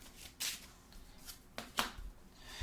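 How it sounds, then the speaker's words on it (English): A deck of cards being shuffled during a Marvel Champions card game, with a few soft riffling bursts and flicks, fairly quiet and close, with no talk. "We're shuffling our deck."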